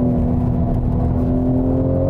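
A Toyota Supra GR six-cylinder engine drones steadily under acceleration on a track, a loud, even in-car hum with a strong low tone and no talking.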